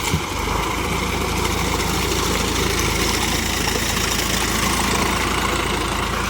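A Sonalika 47 RX 4WD tractor engine runs loud and steady while pulling mud in a wet paddy field, a constant close rumbling drone with no pauses.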